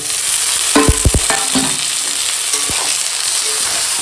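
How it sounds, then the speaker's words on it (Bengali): Close, dense sizzling as potatoes and tomatoes fry with onions, broken by several stirring scrapes and clanks of a utensil against the pan early on. "দিয়ে সবজি কষানো হয়ে গেছে"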